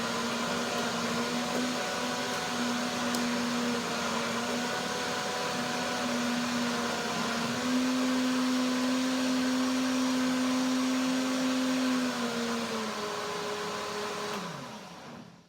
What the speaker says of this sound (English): Blender that.